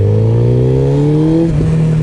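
A Hayabusa motorcycle accelerating hard on a training circuit, its engine note rising steadily in pitch through a gear, then a brief dip and shift as the revs settle, close and loud with no talk.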